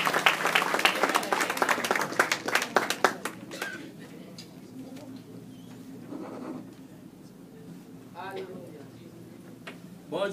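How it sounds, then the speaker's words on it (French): Church congregation clapping hands during a Sunday worship service, rapid dense claps loud at first then thinning out and fading, followed by quieter voices and murmuring. "Frappez main pour applaudir l'Esprit"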